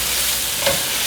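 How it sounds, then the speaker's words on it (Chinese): Soy sauce, rose salt, sugar and white pepper are stir-fried together in a pan, making a brief, close sizzle with a single stirring scrape. "把所有调味料炒匀"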